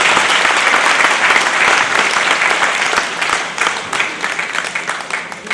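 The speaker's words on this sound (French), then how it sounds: "On l'applaudit bien fort." Sustained, dense applause from an indoor audience at an association's inauguration, honoring the vice-president, loud and steady before thinning into scattered claps toward the end.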